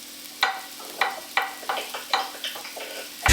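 Sausages cooking in a pan, giving a quiet steady sizzle broken by about eight sharp clicking scrapes of a utensil against the pan, with a louder clatter at the end.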